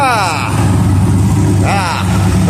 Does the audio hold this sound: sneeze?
no